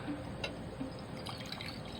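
A small leftover amount of acid solution trickles into a laboratory flask, a soft, quiet liquid pour with faint drips over steady background hiss.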